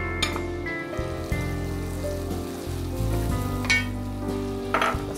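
Finely chopped onion fries alongside sausage for sausage fried rice, giving a continuous near sizzle with occasional louder crackles and utensil scrapes and no speech, while a musical tone plays softly behind.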